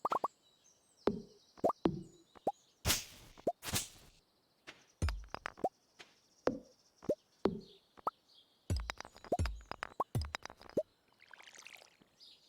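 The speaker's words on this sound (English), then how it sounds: "Yeah, water the weeds." Watering can watering crops in the video game Stardew Valley, a series of loud, close watery plops and splashes repeating in a steady rhythm, with no talking.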